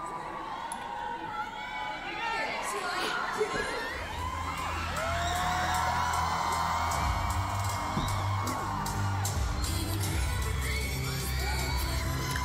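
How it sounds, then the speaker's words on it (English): Fans at a K-pop concert in London scream and cheer loudly, a dense, continuous crowd roar with shrill individual shrieks and whoops swelling through the clip. "Obligatory fans screaming their head off, very important."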